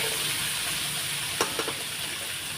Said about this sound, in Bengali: দেখো আলুগুলো ভাজা ভাজা হয়ে এসছে